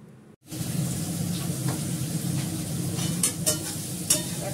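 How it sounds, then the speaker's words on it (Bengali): Pointed gourd (potol) frying in a pan, a steady close sizzle with occasional stirring clatter, continuous and fairly loud after a brief silent start. "একটু পটলটাকে আমি ভালো করে ভেজে,"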